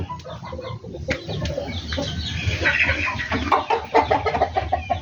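Chickens cluck and call close by alongside a rooster kept tied up in a backyard flock, with busy overlapping clucks building in intensity through the second half.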